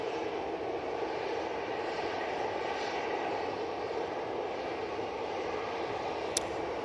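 A passenger airplane taking off from runway 23 left at Manchester Airport, a steady broad jet roar heard from a distance, even in loudness throughout, with a brief faint click near the end and no talking.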